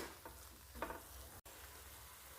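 Baingan bharta (mashed eggplant) is stirred with coriander in a pan on a slow flame: a steady, quiet sizzle runs throughout, broken by a couple of soft stirring scrapes, with no talking.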